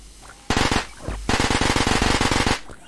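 A firecracker weapon in the video game Juicy Realm fires a rapid string of sharp crackling pops. A short burst comes first, then a longer, fast, even volley after a brief pause, loud and close.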